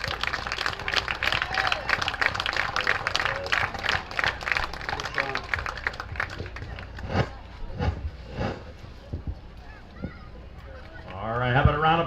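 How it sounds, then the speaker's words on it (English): A crowd applauds at a Majors finals baseball game with loud, dense clapping that gradually thins out, followed by a voice speaking near the end. "how about a round of applause again for Sylvan Vets?"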